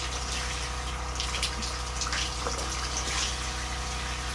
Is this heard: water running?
yes